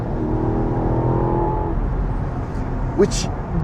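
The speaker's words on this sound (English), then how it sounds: "the performance exhaust, the Alpina exhaust system" A 2021 BMW Alpina XB7 with its Alpina performance exhaust rumbles steadily with a harmonic drone that rises and fades, ending in a sharp short burst near the end.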